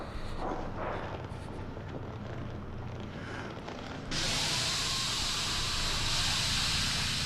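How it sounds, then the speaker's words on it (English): Steam pipe venting in the horror game Outlast: a broad hiss rises over a low rumbling backdrop, then turns into a loud, steady, sustained blast partway through, with no voices. "we could have just gotten burned by that steam pipe venting through there"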